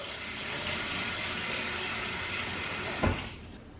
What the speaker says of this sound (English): I'm going to place it in the water, and you're going to do that with each potato after you peel it